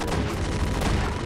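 A burst of gunfire from Half-Life 2 fills a short moment with dense, rapid cracking shots, loud and continuous, without any talk.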